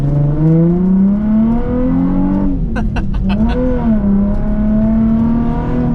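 A Nissan 350Z engine with a loud aftermarket exhaust revs up, dips briefly with a crackle as the gear shifts, then pulls hard again, heard from inside the car.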